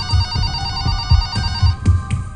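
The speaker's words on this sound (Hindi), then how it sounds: "फोन की घंटी बजती है" A telephone rings in a police control room in Firozabad, India, a bright electronic trill repeating in quick, steady bursts, close and clear with no voices.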